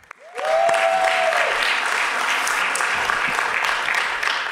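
Loud, sustained applause from a crowd at an open mic event, a dense steady wash of clapping that swells quickly and holds, with a short tonal sound near the start.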